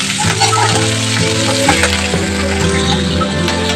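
Green chillies and onions frying in a hot pan with a loud, continuous close sizzle and stirring scrapes, with no voices.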